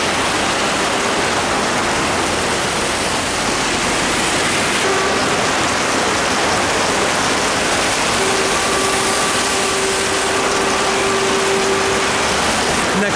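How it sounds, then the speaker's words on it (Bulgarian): Heavy rain pours down steadily in a Bulgarian street downpour, a dense, loud, unbroken hiss that fills the whole clip with no pauses. "Хора, такъв дъжд не сме виждали скоро."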